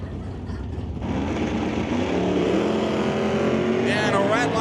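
A drag race car, an 09 Challenger, launches at an ET bracket race, its engine rising from a steady rumble into a loud, sustained roar close by.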